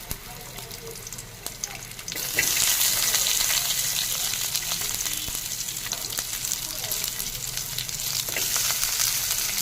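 Onion sizzling and frying steadily in hot oil with ginger and garlic in a pan, a loud continuous crackle that jumps up after a quieter opening couple of seconds, with occasional stirring scrapes.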